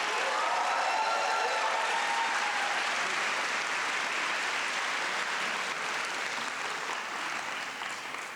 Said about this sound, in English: one more round of applause for the amazing Blake High School drumline